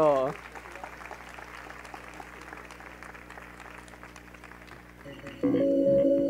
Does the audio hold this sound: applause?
yes